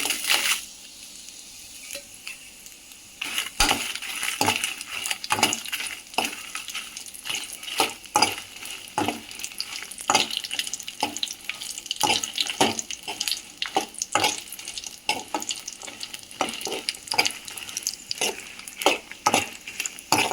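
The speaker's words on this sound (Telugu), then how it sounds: "ఒక ఇరవై గల మిరపకాయలు వేసుకుంటాను చింపి" Torn dried red chillies fry in a pan for curry leaf podi, with steady crackling sizzle and frequent sharp stirring scrapes and clinks close by, no talking.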